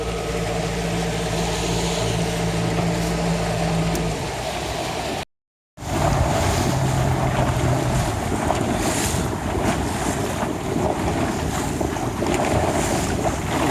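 Youth sailboat (Optimist dinghy) racing at a national team trials, with steady water rush, wave slap and heavy wind buffeting on the microphone throughout, briefly cut by a moment of silence.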